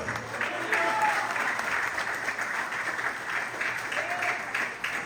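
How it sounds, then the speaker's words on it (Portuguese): A church congregation claps in praise during a family worship service, steady moderate clapping with faint voices mixed in. "Com as suas palmas, louva o nome do Senhor"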